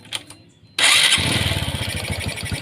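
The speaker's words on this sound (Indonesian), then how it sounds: "baru teman-teman hidupin motornya, tutup rapat, hidupin motornya" A Honda Supra X 125 motorcycle engine catches after a short quiet pause, firing loudly and settling into a steady close-up idle with a slight uneven rumble.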